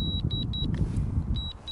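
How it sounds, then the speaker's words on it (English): A DJI Mavic Mini drone controller beeps after return to home is triggered, a rapid series of sharp, high, evenly spaced beeps, then a pause and two more, over a low rumbling background. "You'll hear it start beeping."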